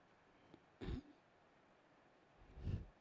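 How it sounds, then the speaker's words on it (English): Two short, rough throat-clearing coughs, one early and one near the end, close and fairly soft, separated by quiet. "He coughed to clear his throat"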